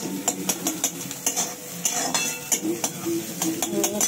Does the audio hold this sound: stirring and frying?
yes